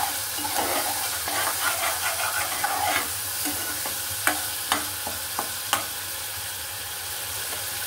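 Spice paste frying in oil with the oil rising to the top, a continuous sizzle with scraping stir strokes, then several distinct sharp clacks of a utensil against the pan; no talking.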